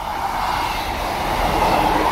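At West Allerton a train rolls past close by, a steady, loud rumble of rail noise with a broad roar that holds evenly through the short stretch, with no talking.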